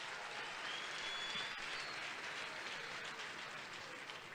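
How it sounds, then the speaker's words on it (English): A crowd at a National Day of Reconciliation gathering applauds people standing in the audience: a sustained, dense wash of clapping that stays fairly even, then tapers slightly toward the end. "can we all give a great hand of applause to all those people that are standing?"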